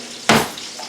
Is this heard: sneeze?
no